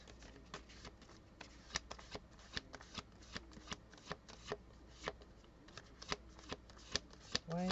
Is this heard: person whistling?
no